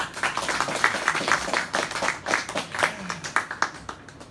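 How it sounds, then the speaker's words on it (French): Studio audience on a French television show claps warmly, steady mixed applause with individual claps standing out, holding at moderate loudness throughout. "On peut encore l'applaudir très fort."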